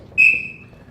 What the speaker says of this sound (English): until I blow the whistle